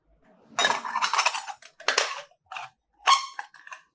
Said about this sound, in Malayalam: നമ്മൾ അച്ച് സെറ്റാക്കി